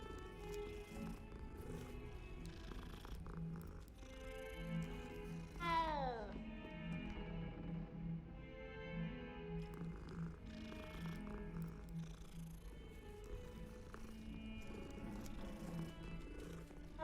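A cat in the video game Hogwarts Legacy purrs and lets out a meow, set against steady in-game music and ambience, with one rising meow-like cry standing out near the middle.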